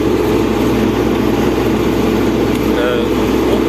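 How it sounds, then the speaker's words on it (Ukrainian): An MTZ 892.2 tractor ploughing a soybean field with a Lemken Opal 090 plough gives a loud, steady engine drone that stays constant under someone talking. "трактор рівно йде, все налаштоване"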